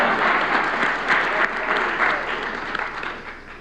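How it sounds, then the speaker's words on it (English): An audience at a city's annual address applauds warmly, a full, continuous wash of clapping from many people that gradually thins and fades toward the end. "You can clap for yourselves."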